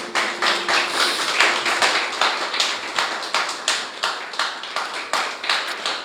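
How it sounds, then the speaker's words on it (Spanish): An audience claps for Enzo, a chef introduced as a brother, with dense, uneven hand claps running steadily throughout at a moderate level and no speech. "Denle un aplauso a mi hermano Enzo."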